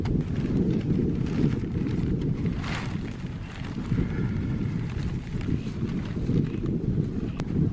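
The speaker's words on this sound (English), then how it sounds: "But it's still really windy." Steady, heavy wind buffeting the microphone with a continuous low rumble, loud and unbroken throughout.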